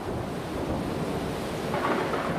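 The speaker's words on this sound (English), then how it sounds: "After 6 days and nights of storm, the world was submerged." Continuous thunderstorm noise, a dense roar of rain and rumbling thunder with wind, steady and fairly loud throughout with no voices.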